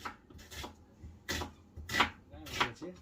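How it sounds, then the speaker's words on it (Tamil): Knife slicing two large onions lengthwise on a board for biryani, a few close, crisp cutting strokes with a short gap between each. "பிரியாணிக்கு ஒரு 2 பெரிய வெங்காயம் வந்து நீளமாக கட் பண்ணிக்க போகிறேன்."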